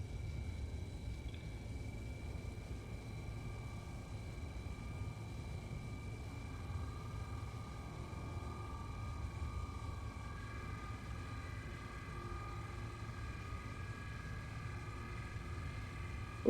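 A mining laser runs in Star Citizen as a sustained low droning hum with steady tonal whines layered above, constant and moderately quiet for the whole stretch, with no speech.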